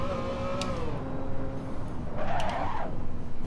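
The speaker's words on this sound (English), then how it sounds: "You hear the brakes locking up there." Car engine drone in a racing video game with a brief high squeal of brakes locking midway, then the motor hum continues.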